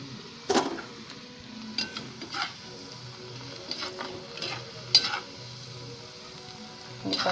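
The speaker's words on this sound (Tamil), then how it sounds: "அந்த பூண்டையும் நீங்கள் இப்படி தான் வறுக்கணும்" Garlic fries in a pan for a Tamil-style pepper-cumin chutney, a quiet steady sizzle broken by several brief scraping stirs and clinks of a utensil against the pan.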